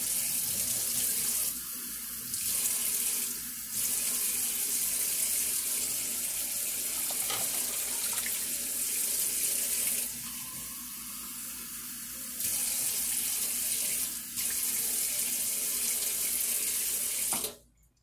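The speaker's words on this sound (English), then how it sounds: "now I'm going to add enough cold water to make 2 cups." Cold tap water runs steadily into a measuring cup, loud and close, with the stream briefly changing pitch a few times before shutting off.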